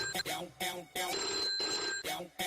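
A telephone rings in repeated electronic bursts, a warbling tone pattern with short gaps between rings, fairly close and clear.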